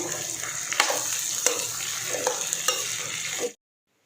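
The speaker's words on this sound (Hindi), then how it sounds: "इसमें ये हमारी प्याज भुनेंगी।" Onions frying in oil in a pan for a bitter gourd curry, a steady close sizzle with a few stirring scrapes, alone without talk, cutting off abruptly near the end.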